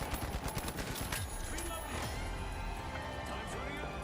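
Rapid turret gunfire in the video game Arc Raiders, dense overlapping bursts filling the whole stretch at a steady, moderately loud level, with other game sounds beneath.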